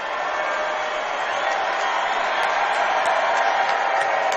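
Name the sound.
Connersville basketball crowd cheering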